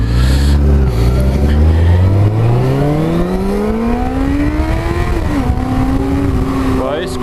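A Suzuki GSX600F motorcycle engine revs while riding, its pitch climbing steadily through a gear before a brief dip and another rise, loud and close throughout.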